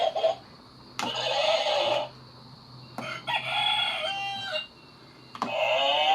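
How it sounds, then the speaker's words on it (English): A multisensory room panel plays farm animal sound effects, mainly repeated rooster crows and clucking in separate bursts over a faint steady hum, with no one speaking. "And we have the animal sounds."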